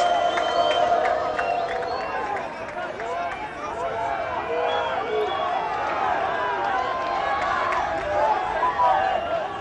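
Fenerbahçe fans cheering and chanting at a training session at the Can Bartu facilities as players approach them, a lively crowd roar with voices rising and falling throughout.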